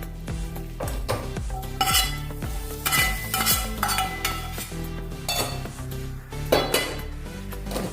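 Methi matar masala stirred in a metal kadhai, with a spoon repeatedly scraping and clinking against the pan in uneven, fairly loud strokes over a faint sizzle.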